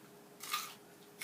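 A crunchy fresh red radish root is bitten once, with a short bright crisp crunch near the microphone and a faint second bite at the end in otherwise quiet surroundings.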